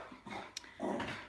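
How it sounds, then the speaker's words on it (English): A dog passing by outside a window gives a brief, soft whimpering vocalisation, then a fuller yip-like sound a moment later, heard at moderate distance with no talk. "A dog went by the window."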